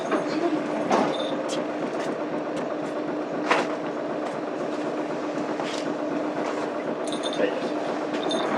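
A Sapporo Jotetsu Mitsubishi Fuso Aerostar city bus with a five-speed manual gearbox pulls away from a stop, its engine and road noise a steady rumble with occasional clunks and rattles, while a recorded voice announcement plays over it.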